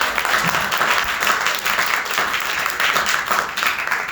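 Loud, sustained applause from the crowd at an Arya Samaj Bodh Utsav gathering honoring two women leaders, a thick wash of many hands clapping close by, continuous and even from start to finish.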